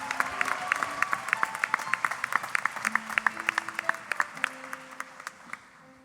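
Audience at a Hoosier Star singing competition applauding after a performance, a crisp run of individual claps from a modest crowd that gradually thins and fades, with a voice briefly audible underneath.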